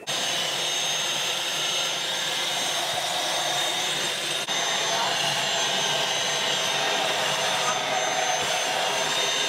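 Steady loud whooshing roar of a vacuum cleaner running continuously while cleaning a reptile enclosure, close and unbroken throughout.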